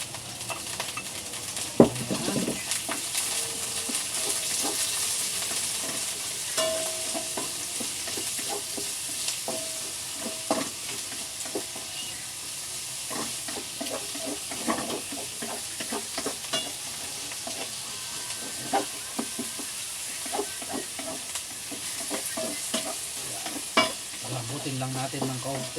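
Carrots stir-frying in vegetable oil, a steady soft sizzle with intermittent scrapes and clinks of a utensil against the pan throughout, fairly quiet and close.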